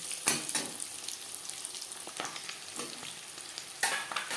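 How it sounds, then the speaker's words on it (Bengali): Eggs dusted with red chili powder being turned and fried in a pan for biryani: close sizzling hiss with two sharp utensil clatters as they flip, one at the start and one near the end. "উল্টে পাল্টে ডিম লালচে করে ভেজে নেব।"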